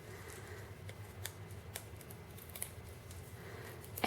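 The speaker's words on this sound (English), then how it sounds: "Take my paper snips and trim this end off." Paper snips trim the end off a handmade card, giving a few faint, crisp cuts spaced apart in a quiet room.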